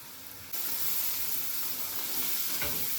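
Chili powder and biryani masala spices fry in a pan for a butterbean curry, a sudden burst of loud, steady sizzle and hiss that starts a moment in and continues unbroken, with a faint scrape near the end.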